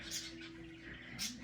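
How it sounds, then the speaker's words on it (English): Faint, high chirps from budgies and cockatiels come in two short bursts, one near the start and one near the end, over a quiet indoor hum. "I currently have 5 budgies and 2 cockatiels."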